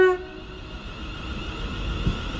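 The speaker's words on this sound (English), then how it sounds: "Lovely waving tone from the driver." A departing London Northwestern Railway Class 350 electric train sounds a short horn tone that cuts off quickly, leaving a low rumble of the train pulling away from a station platform.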